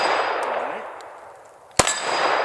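A lingering metallic ring decays until a sharp pistol shot and the bright clang of a bullet hitting a steel gong target sound out, followed by fresh ringing.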